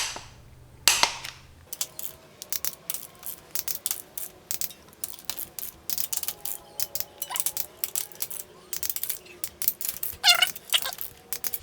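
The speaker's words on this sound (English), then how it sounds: "I'm gonna get the torque wrench out and start doing the torque sequence" Rapid sharp ratchet-like clicks of a torque wrench tightening bolts in sequence, a dense irregular stream of close mechanical clicks with short pauses, no talking.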